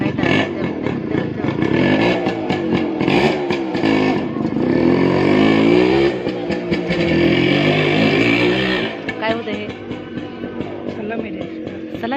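A motorcycle engine catches and runs, revving up and down with a rattling clatter for several seconds before easing off, while someone talks nearby.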